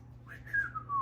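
Cartoon whistling from an animated 1995 comedy scene: a single jaunty melodic whistle rising then gliding down, fairly clear over a steady low background hum, about a second long.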